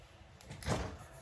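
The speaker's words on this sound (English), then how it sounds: "close the door, please." A door pushed shut indoors in a home office, a single soft thud with a brief sweep of air, fairly faint and heard alone.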